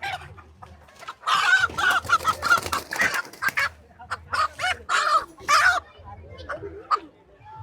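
Desi country rooster and hens of a native poultry breed cluck repeatedly on a farm, in close, busy bursts throughout, with a person talking between the calls.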